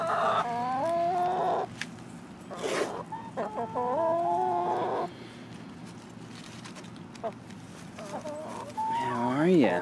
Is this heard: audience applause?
no